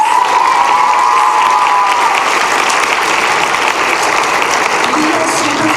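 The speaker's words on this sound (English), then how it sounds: "I want an additional round of applause for Anya" Loud, full audience applause at a middle school winter concert for a student accompanist, steady and sustained throughout, with crowd voices and cheering mixed in.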